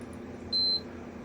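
A single short electronic beep from a wristwatch during a Bally -35/-50 pinball sound board rebuild, one steady tone lasting about a quarter second over low room hum.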